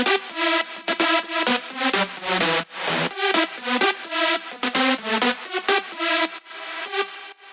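Big room synth leads in FL Studio with automated reverb wet level swelling into the gaps between notes, a sucking wash between loud, bright, rhythmically chopped chords, continuous and without talk.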